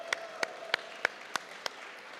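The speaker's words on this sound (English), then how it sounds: "Give her a great big round of applause." Slow, evenly spaced claps at an ocean-science open house, about six crisp strikes roughly a third of a second apart, fairly faint over a quiet room.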